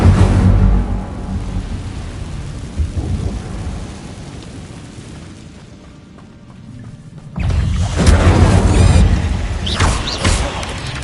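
In the game Hogwarts Legacy, the Incendio fire spell gives a loud roaring, rumbling burst that fades into a quieter stretch. Then a second strong, crackling surge flares up near the end, with no speech over it.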